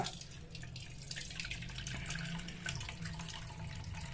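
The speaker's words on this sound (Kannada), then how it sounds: "ನೀರನ್ನು ಒಂದು ಇದಕ್ಕೆ ಶೋಧಿಸ್ಕೊಳ್ಳೋಣ" Water strained off washed moong dal (split yellow mung lentils) in a kitchen, a steady trickling and splashing pour with light dripping that runs continuously and close by, with no talking.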